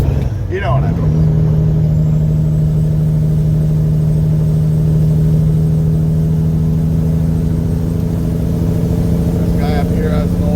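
A Peterbilt truck with a 350 HP Detroit Diesel pulls a heavy 63,500 kg load, its engine holding a loud, steady low drone that stays even throughout.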